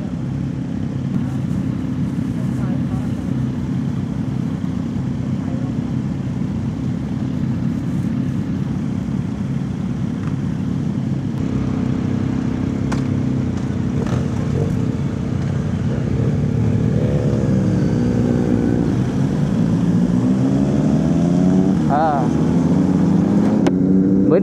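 A group of big motorcycles rides together on a road trip from the border toward Hat Yai in Thailand, their engines giving a loud continuous roar with a few rising revs, while people talk over the noise.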